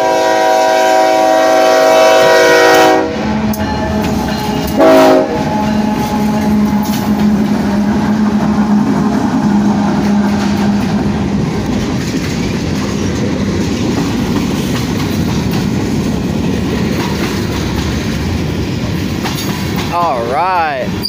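A BNSF freight locomotive, number 8175, leads a slow westbound Union Pacific manifest train at Kinder, Louisiana, its loud horn blasting in long chords at the start before the heavy rumble and clatter of passing cars fills the rest.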